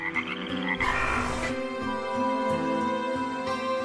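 Frogs croaking in a dense chorus, overlapping rough rhythmic calls at varying pitches, loud and continuous throughout.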